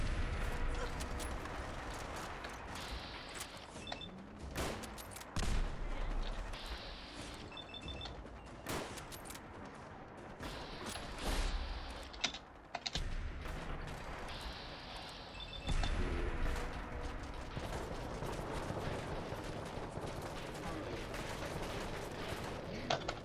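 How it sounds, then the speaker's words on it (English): Fallout 4 V.A.T.S. combat produces repeated gunshots and bursts of fire that punch through a loud, busy game mix over several seconds, separated by brief lulls. "These delayed VAT shots are really annoying"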